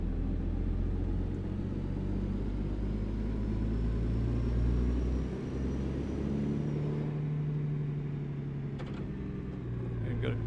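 A cab-over truck's engine rumbles low and steady while the rig is turned around in American Truck Simulator, with faint clicks like keyboard taps and a slight dip in the drone partway through.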